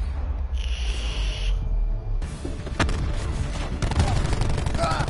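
Gunfire in a video game shooter cracks out in several sharp bursts over a low rumble, loud and close, with a faint voice in the background.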